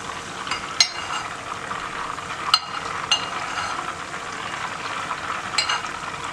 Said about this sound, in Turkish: Tereyağımı burada eritiyorum ve daha sonra sıvı yağ ilave ederek baklavama başlayabileceğim